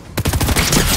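A double pump shotgun in Fortnite fires a rapid, loud burst of close blasts, several sharp shots packed into under a second.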